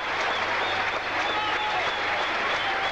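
A cricket crowd at a 1982 Sri Lanka v England Test match applauds three consecutive boundaries. The clapping is loud and sustained, a dense wash of applause that holds steady for the whole stretch.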